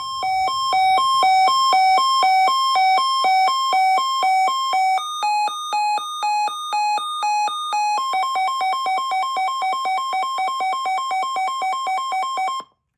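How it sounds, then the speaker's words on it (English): A weather radio sounds its warning alert test, a loud, bright electronic tone pulsing in rapid on-off beeps. The pitch shifts partway through, then becomes faster, denser chirping before stopping abruptly. "so this is the warning, or the advisory."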